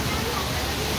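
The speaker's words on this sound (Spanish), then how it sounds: "de este lado tenemos otra alberca con su cascada" Water from a hotel pool's waterfall in Acapulco, Mexico pours in a steady, dense rush that stays close and even for the whole second, with faint voices blurred into the background.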